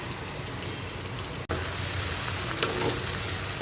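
Onion frying in a pan for a pumpkin fry, a steady, dense sizzle of hot oil heard close up, with a brief break partway through before the crackling carries on.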